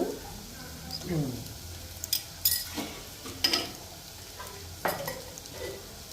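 Garlic paste frying in a pan until golden brown, a low sizzle under clinks and scrapes of stirring with a few sharp utensil taps, and faint voice sounds in places.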